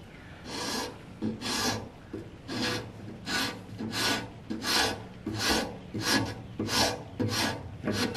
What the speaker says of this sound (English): You can use a rasp like I'm doing and get it down so far, and then just pare that off with a sharp chisel.